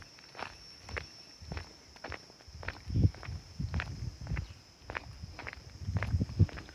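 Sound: footsteps walking down at Wat Phu Taphao Thong temple

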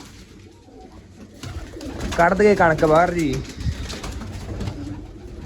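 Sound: pigeons cooing

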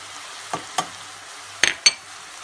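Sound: minced meat frying in a pan, spices stirred in

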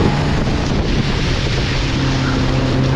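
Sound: water splashing against a moving boat

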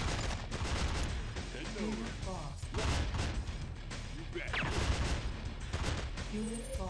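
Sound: sniper sound effect, from the video game Command & Conquer: Tiberian Sun

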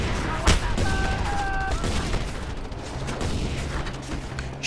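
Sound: rockets firing and exploding in a video game

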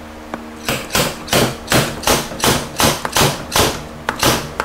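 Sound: slide hammer pulling a part from a Cadillac Jetaway transmission

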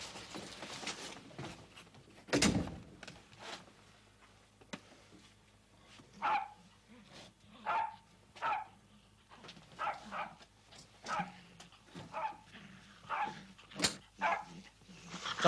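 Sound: dog barking and whimpering

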